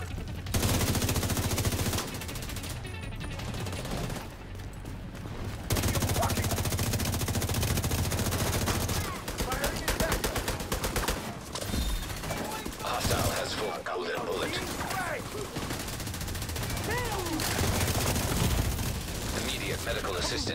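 Rapid automatic gunfire and bursts from a tactical shooter video game firefight during an extraction with a briefcase, loud and sustained across the clip, with in-game speech mixed underneath.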